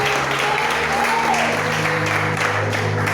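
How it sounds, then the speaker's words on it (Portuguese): A church congregation claps loudly and continuously during a worship service, dense applause filling the whole moment with a low hum underneath. "Aplauda o Senhor bem forte, igreja"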